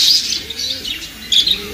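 Pigeons, a cock and a hen, call with soft coos and brief chirps at close range, set against a low, steady background hum.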